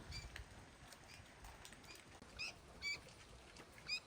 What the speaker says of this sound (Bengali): আর বুলবুলি পাখির বাচ্চাটাও ডাকতেছে